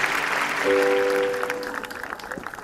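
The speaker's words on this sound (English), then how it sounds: "A louder applause for Standard 1 and 2 dance." Audience applause at a school annual day in Chennai, greeting a Standard 1 and 2 dance performance: a dense, steady wash of clapping from a large crowd that fills the whole stretch, with a brief held musical tone partway through.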